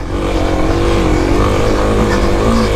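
A 2021 Kawasaki KLX300 dirt bike engine labours loud and close while climbing a steep off-road hill, with a continuous rough drone that shifts in pitch as the rider downshifts.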